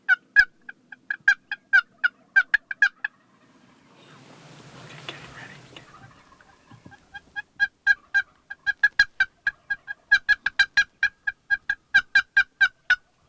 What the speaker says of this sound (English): They're on the ground. They're starting to call.